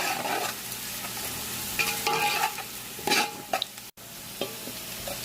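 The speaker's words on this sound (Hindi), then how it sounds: "1 से 2 मिनट तक फ्राई करेंगे।" Onions and garam masala fry in a pan with a steady sizzle, punctuated by several scraping stirs of a utensil against the pan, close and alone without talk.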